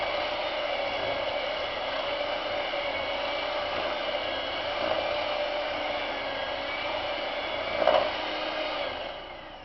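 Electric hand mixer creaming shortening with brown sugar for chocolate chip cookie dough, a steady whirring motor drone that runs continuously, with a brief louder bump near the end before winding down.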